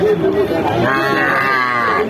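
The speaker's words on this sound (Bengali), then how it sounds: "সামনে একটা দেখতে পাচ্ছেন আপনারা মূলত মিনি কুরাস জাতের গাভীর সাথে বাছুর।" A mini cross-breed dairy cow with her calf at a cattle market gives a loud, close, drawn-out moo lasting about two seconds.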